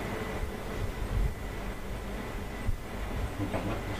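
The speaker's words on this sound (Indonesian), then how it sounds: "Kencang banget suara kipas ini." A loud electric fan runs close by in a room, a steady broadband whooshing drone with faint rattles, filling the background with no talking.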